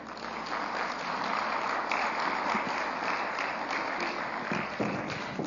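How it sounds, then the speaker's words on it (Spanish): Sustained audience applause welcoming a panelist at an insurtech forum panel in Guatemala, a steady, dense wash of clapping from a large crowd that holds at an even level throughout. "Recibámosla con un fuerte aplauso."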